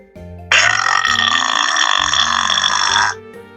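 A voice imitates a huge monster burp in one long, loud, raspy belch lasting a few seconds, close up, with soft background music around it.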